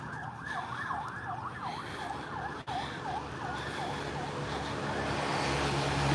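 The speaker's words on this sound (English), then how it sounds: "The ambulance going." An ambulance siren wails in repeating rising and falling sweeps, steady and moderately distant, over low road rumble in Pattaya.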